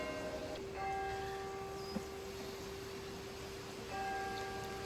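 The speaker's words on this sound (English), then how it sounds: "Church bells." A church bell tolls with sustained ringing tones that swell, fade and strike again, heard from a distance over steady background noise, with no voices.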